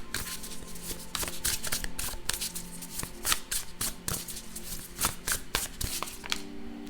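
Oracle cards being shuffled by hand in a steady run of crisp riffling flutters and soft slaps, close and fairly loud, with no talk over them.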